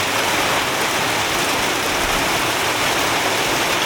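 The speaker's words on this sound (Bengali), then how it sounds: "প্রচুর বৃষ্টি হচ্ছে।" A heavy downpour roars steadily at a market, dense and loud throughout like rushing water, with no one speaking over the constant wash of rain.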